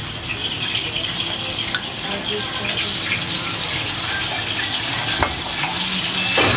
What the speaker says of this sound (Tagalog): Ilagay na po natin yung ating oil.